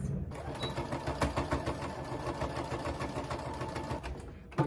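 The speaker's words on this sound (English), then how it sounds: "easier with a sewing machine because it's just very, very quick." A sewing machine runs straight stitches through clothing being mended, a fast, steady mechanical whirring with a rhythmic needle chatter, close and fairly loud, ending with a brief knock.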